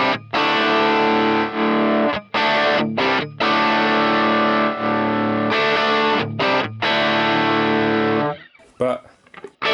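Overdriven electric guitar through a Fender Pro Reverb tube amp cranked to 10, playing sustained, distorted chords with brief stops between phrases, loud and close, ending in a few quieter picked notes.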